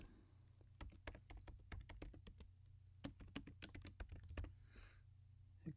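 Someone types a name on a computer keyboard, crisp quiet key clicks in short irregular bursts, close and alone over faint room hum.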